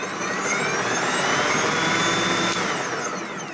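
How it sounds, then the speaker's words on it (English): Wild Badger 40V battery snow blower motor spinning up, a loud, steady whirring whine that holds close and constant. "As you can hear, the motor speeds up after a few seconds."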